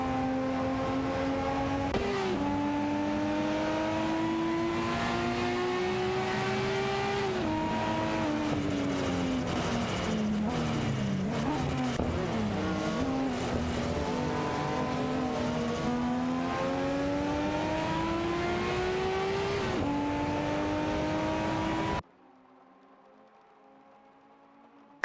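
Race cars in an AI racing video game whine steadily at high revs for about twenty seconds, their engine pitch rising and dipping through gear changes and passes before cutting to silence.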